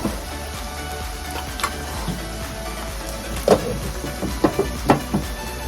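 Diced tomato cooks in a pan for shrimp fettuccine with a steady low sizzle, broken by a few faint clicks and taps of utensils, heard up close and alone.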